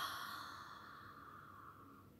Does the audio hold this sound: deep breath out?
yes